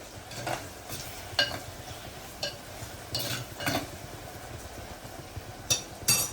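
Onion and brinjal frying in a clay pot, a soft steady sizzle with repeated stirring scrapes of a utensil against the pot, close and without talking.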